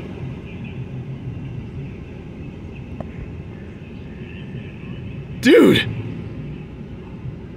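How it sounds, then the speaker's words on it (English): Toyota Supra engine rumbling close by, a steady low drone under the scene with a brief sharp swell midway as someone shouts in excitement. "Holy crap, it's a Supra!"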